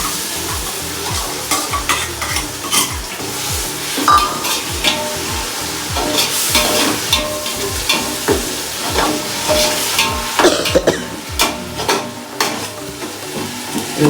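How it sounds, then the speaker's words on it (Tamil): Shallots sauté for basmati biryani in a pan, with a constant loud sizzle broken by regular, rhythmic scrapes of a spoon stirring against the metal. The sound is close and goes on without any voices. "இது சின்ன வெங்காயம் போட்டு நல்லா அந்த பச்சை வடை போகிற அளவுக்கு நல்லா அதை வந்து வணக்கிக்கிட்டே இருக்கணும்."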